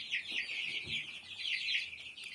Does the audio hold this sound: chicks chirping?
yes